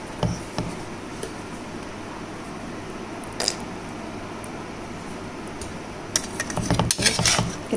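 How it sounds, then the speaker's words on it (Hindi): A spoon stirs cream into butter chicken in a pan, producing soft scraping and thick squishing under a low background hiss, with a clattering burst of metal utensil knocks near the end. "क्रीम डालने के बाद इसको अच्छी तरह मिलाएंगे।"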